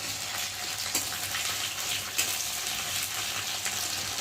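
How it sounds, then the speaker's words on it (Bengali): Constant bright sizzling of garlic frying in a pan, close up, with a few sharp taps of a utensil against the pan. "রসুনটা একটু ভেজে নেবো"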